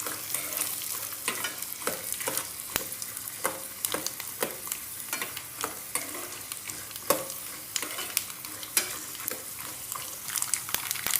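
Dried red chillies and spices sizzle and fry steadily in hot oil as a tempering for tamarind pulihora, with stirring scrapes and crackles across the whole stretch, close and fairly loud, no voices.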